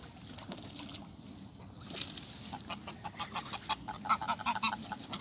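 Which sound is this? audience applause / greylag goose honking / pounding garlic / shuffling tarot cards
greylag goose honking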